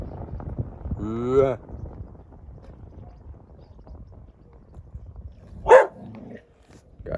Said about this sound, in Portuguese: Cachorrinho danado.